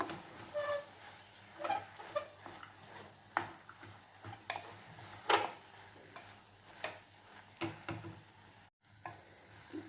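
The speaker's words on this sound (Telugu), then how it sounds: "ఇప్పుడు బాగా మొత్తం కలిపేద్దాం" Gongura, bottle gourd and chana dal curry stirred in a pan, with repeated scraping strokes of the spoon against the pan over a steady sizzle, close and moderately loud, continuing irregularly throughout.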